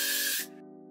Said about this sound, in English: All I'm gonna do to the fringe is spray it